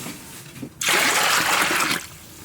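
Water pours into a cooking pot of clams for about a second, a loud, steady splashing rush that stops abruptly, with quiet room tone before and after.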